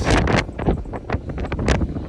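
Strong wind of about 30 to 35 mph sustained with higher gusts buffets the microphone at a camper, in loud, uneven gusts that roar and rumble without a break.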